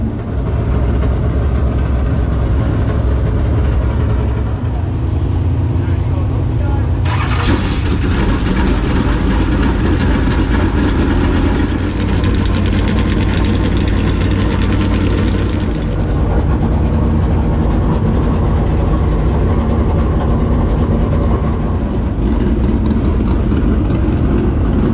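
Race car engines at a dirt track event, including the Kubota Tractors number 10 car, drone loudly and continuously with low rumbling and surging revs throughout.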